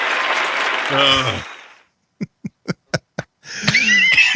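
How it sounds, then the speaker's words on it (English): A small audience applauds briefly while a voice talks over it, then the clapping fades to a few isolated, evenly spaced claps. More talk and noise follow. "All right, we'll give him applause"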